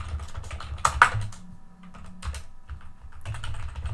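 Keys clatter on a computer keyboard while code is written for a sample forex app, with bursts of close, brisk tapping separated by short pauses, and no voices heard.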